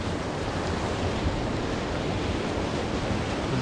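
Duchesnay Falls on a river in North Bay, Ontario, rushing in winter: a loud, dense, unbroken roar of water heard from directly over the falls, steady with no voices.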